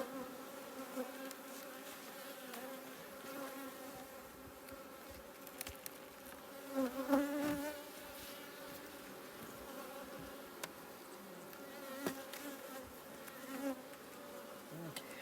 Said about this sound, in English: See how much calmer these bees are?